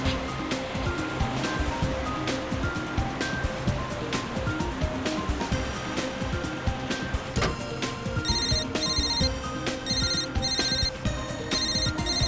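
A telephone ringtone repeats in bright, regular bursts over a steady rushing background, growing more prominent in the second half with a continuous ringing pattern.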